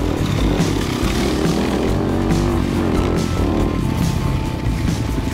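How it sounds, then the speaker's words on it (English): A Yamaha YZ250FX four-stroke dirt bike engine revs and rips along on an enduro trail, its loud buzzing drone rising and falling close by throughout without any talk. "this YZ250FX is fun. A surprising amount of grunt for a small 4-stroke, but man, it rips when you open it up"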